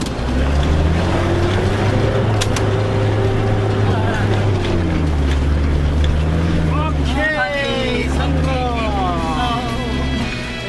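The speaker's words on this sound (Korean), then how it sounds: "힘찬 엔진 소리와 함께 오르기 시작했다." A vehicle engine labors uphill with a deep, steady drone and shifting pitch, loud and close throughout, while a voice talks over it in the second half.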